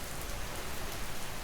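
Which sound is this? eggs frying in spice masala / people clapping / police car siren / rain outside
rain outside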